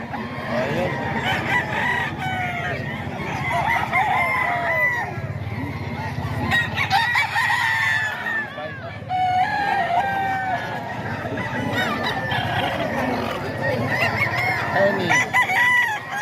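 Roosters at a rooster sale in Bocaue crow repeatedly and cluck over a busy, crowded background, loud and close, with people talking throughout.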